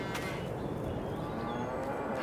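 Cattle mooing in the farm game Farming Simulator 22, a steady low lowing from the herd near the cow shed against constant farmyard ambience, with no talk.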